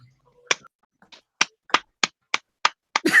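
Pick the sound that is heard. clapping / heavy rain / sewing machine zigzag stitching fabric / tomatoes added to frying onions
clapping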